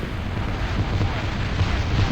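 A big, sustained rumbling explosion from an Annihilator salvo in the strategy game Total Annihilation, a dense continuous roar with no distinct separate blasts.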